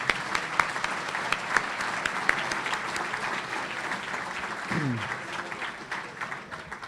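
An audience at a county State of the County address claps in a steady, sustained round of applause that fills the room, with sharp individual claps standing out near the start before it fades slightly.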